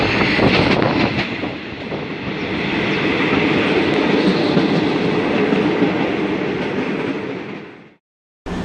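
An overnight train bound for Chiang Mai, Thailand, rolls along the rails with a loud, close rumble and a clattering rhythm of wheels, steady throughout before cutting off abruptly near the end.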